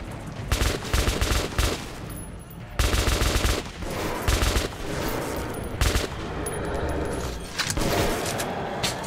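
Guns fire in the shooter Metro 2033 Redux: loud, close bursts of rapid automatic fire, repeated several times with brief gaps between volleys and a lingering rumble underneath.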